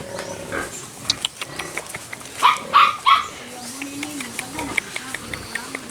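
A dog barks in a short burst of three loud yaps, with quieter whimpering and a person speaking around it.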